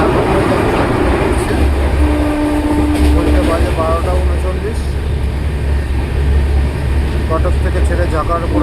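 A train running at 105 km/h through the night toward a junction, heard from inside as a steady low rumble with faint tonal squeals above it, continuous throughout.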